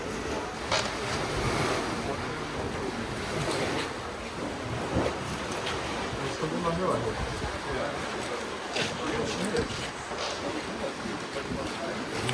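Ocean surf rolls in steadily at Flower Pot Rocks on the Bay of Fundy, New Brunswick, a continuous broadband wash of waves near a platform, with wind buffeting the microphone throughout.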